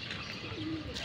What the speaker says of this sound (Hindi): देखते हैं कबूतर कितने निकल के आते हैं दोस्तों